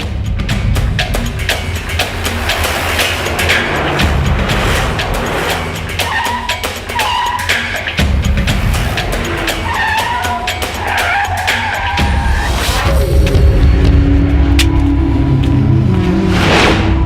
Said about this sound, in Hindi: बल्लू, गाड़ी निकालो।